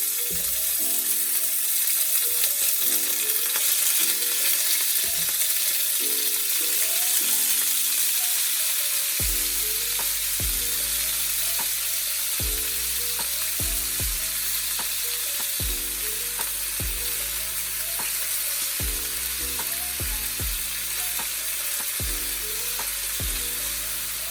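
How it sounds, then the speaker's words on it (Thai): Beef sizzles and fries steadily in hot olive oil in a pan, a continuous crackling hiss with repeated stirring scrapes and clinks throughout, close and loud with no talk. "ตอนนี้กันก็จะเริ่มใส่เนื้อลงไปนะคะ น้ำมันร้อนแล้วค่ะ"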